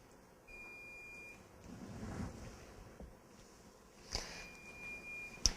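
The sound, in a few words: negative pressure wound therapy device alarm beeping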